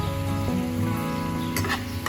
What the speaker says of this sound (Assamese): আৰু আকৌ ধুনীয়াকৈ এইখিনি ভাজি ল'লোঁ